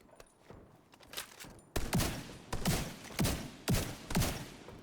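Gunfire in a heavily modded Skyrim game, a run of about five loud, evenly spaced booming shots following quieter, scattered earlier pops.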